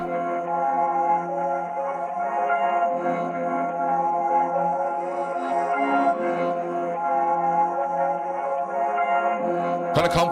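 A drill beat melody plays steadily, a dense, reverberant tonal line processed with formant, reverb and EQ effects, continuous and loud throughout before a sharp burst near the end.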